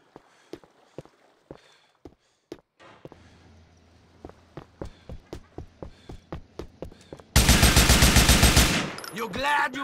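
Machine gun fire in GTA IV erupts as a long loud sustained burst near the end, after a run of sharp single gunshots and footstep-like knocks, with a voice briefly heard.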